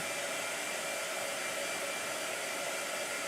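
A hair dryer blows steadily on a painting in progress, a continuous loud broadband whoosh running unbroken and alone throughout.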